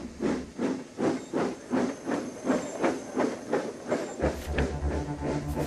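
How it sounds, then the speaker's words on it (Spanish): Steam engine running with a steady rhythmic chuff, about a dozen evenly spaced hissing bursts of steam, fairly close and moderately loud, with a lower mechanical rumble joining near the end; no voices. "Llegaba la máquina de vapor y con ella una revolución."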